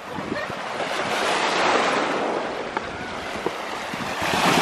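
Lake waves at Mackinac Island wash and splash close by in a continuous rush, with wind buffeting the microphone and a few sharper splashes.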